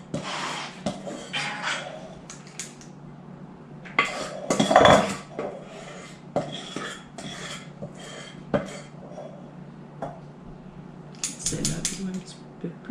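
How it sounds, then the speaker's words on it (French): Small metal spoon clinking and scraping against muffin moulds while batter is moved between them for ten egg muffins, close, irregular taps and scrapes, with a person speaking French intermittently throughout. "là, je transfère un petit peu avec une petite cuillère pour les mettre plus égales"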